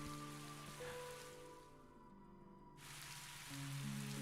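Soft, steady rainfall in the video game Tales of Graces f, a quiet hiss of drops on surfaces layered under gentle sustained background music, thinning briefly in the middle before returning.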